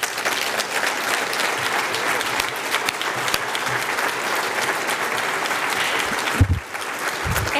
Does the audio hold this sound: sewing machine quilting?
no